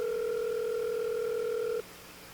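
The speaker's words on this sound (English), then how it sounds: "A ring in the silence of the hallway. Its sound alone might as well be sharp enough to pierce through my ears." A telephone ringing in a silent hallway in a video game, a single steady electronic tone held for nearly two seconds and then cutting off abruptly, clear and alone.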